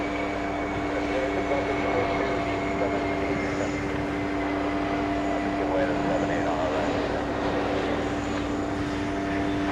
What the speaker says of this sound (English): All right, there goes the takeoff.